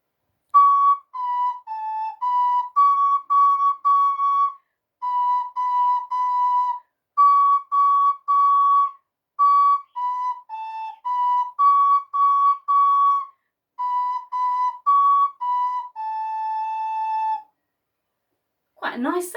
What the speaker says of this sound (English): What does the ocarina sound like? Well, I'll play it to you, and then you can hear it.